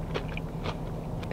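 Chewing of poke topped with crunchy garlic chips, big chunks of cubed soft fish eaten at a Honolulu market plate-lunch spot; a few close, soft bites and crunches over a steady background hum.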